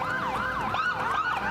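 Police pace cars leading the Manchester Road Race 2017 down Main Street, their sirens wailing in a loud, continuous up-and-down sweep.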